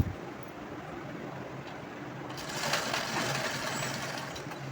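A sewing machine runs at a steady, fairly quiet hum while stitching lace onto a blouse back neck, the motor note rising a little midway and continuing evenly to the end.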